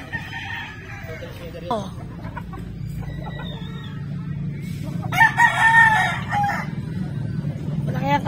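A backyard gamecock stag crows loudly and clearly nearby, with other fowl clucking around it and a brief spoken exclamation in the background.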